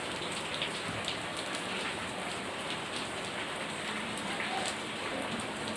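Steady rain falls continuously, a dense, even hiss with scattered drop patter throughout and no talking over it.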